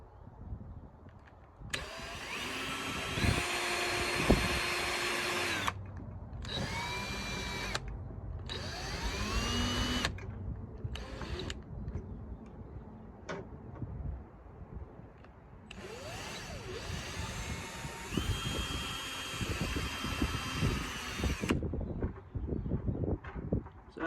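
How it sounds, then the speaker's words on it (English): Power drill sinking screws one at a time into the gunnels of an 18-foot Specialty Marine Outrage boat, several whirring bursts of a few seconds each with short pauses between, close and fairly loud amid workshop noise. "drilling the pilot holes and sinking the screws in one at a time"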